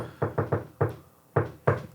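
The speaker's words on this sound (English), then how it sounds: "So at that point in time, I will knock." Knuckles rapping on a house door: six firm, close knocks in uneven groups, a quick triple, a single, then a pair after a pause.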